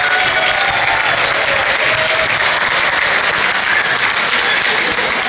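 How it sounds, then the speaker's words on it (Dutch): Dense, continuous applause fills a hall as a carnival crowd claps for the committee during a new prince's farewell celebration, steady and loud throughout with no pause. "Daarom voor de circummissie ook graag een applaus."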